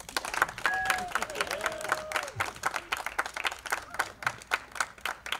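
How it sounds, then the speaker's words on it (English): Audience applause for graduates at a Governor Thomas Johnson High School 2020 graduation, a steady wash of many hands clapping from a distance with some crowd noise and cheering, and a voice over it. "round of applause for all of our graduates here today"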